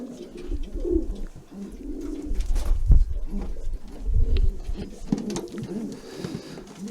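Rare coloured pigeons in a loft on an allotment coo continuously and fairly close, low throaty calls rising and falling over the whole stretch, with no talking.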